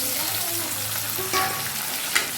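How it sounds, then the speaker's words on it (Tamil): Onion and tomato are stirred and fried in a pan for Saidapet vada curry, a continuous close sizzle with a couple of soft stirring scrapes and one brief clink near the end. "நல்லா கிண்டி விட்டுடலாம் கொஞ்சம் உப்பு போட்டு நல்லா கிண்டி விட்டுடலாம்"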